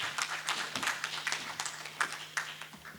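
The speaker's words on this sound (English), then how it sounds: "Please give your applause" Audience applause at the opening of a presential course on power sector regulation in Africa, heard as a steady, moderately loud spread of clapping for three seconds under a faint low hum.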